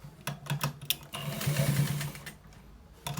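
A sewing machine stitching a trouser design sideways down the leg starts with a few short bursts of clatter, runs in a steady stretch, then stops, and finishes with more brief taps near the end.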